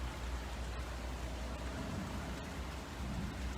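Distant thunder rolls as a low, steady rumble beneath dense, continuous rain during a storm, with no voices.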